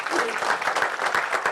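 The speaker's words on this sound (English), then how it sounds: "Let's give them a round of applause for it." Audience at a press conference for a city running series breaks into brief, dense applause, a steady patter of many hands with faint voices underneath.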